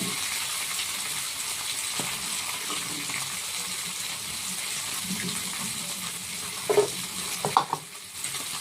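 Fish frying in oil in a wok gives a steady, moderate sizzle throughout, with a few louder clatters near the end as it is stirred or lifted.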